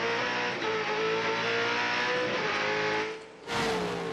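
Onboard a 1997 Australian Touring Car Championship touring car driven by Glenn Seaton at Calder Park, the race engine roars loud and close, holding steady revs before a brief lift and sharp re-acceleration near the end.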